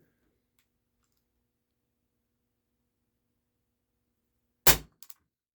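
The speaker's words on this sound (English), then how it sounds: "This does have a pretty snappy blowback, and for a CO2 powered air gun, it's pretty loud, especially inside here." A Walther P38 CO2 air pistol shooting Smart Shot BBs indoors: one sharp, loud snap of the shot with blowback after a long silence, followed quickly by a quick lighter click.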